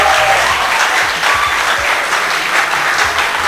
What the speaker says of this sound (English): Clap very well.